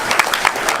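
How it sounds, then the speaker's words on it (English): An audience bursts into applause, a brief, dense patter of many hands clapping at once, close and fairly loud. "let's give them a round of applause"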